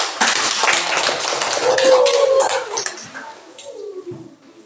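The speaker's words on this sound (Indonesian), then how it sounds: "Tepuk tangan." Classroom hand clapping, a burst of many small claps from pupils that builds then fades, with children's voices mixed in toward the end.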